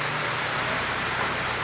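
Rain falls steadily and loudly in an outdoor spot during wet weather, a dense, even hiss of drops hitting surfaces with no pauses and no voices.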